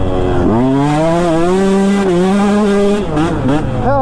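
A KTM 125sx two-stroke dirt bike on a sand track revs hard after a popped clutch, its engine note climbing sharply then holding a loud, buzzing wail before dipping and rising again, close to the microphone.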